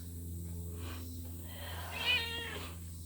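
Cat meowing indoors, one drawn-out meow rising and falling near the end over a steady low hum, fairly close and moderately loud.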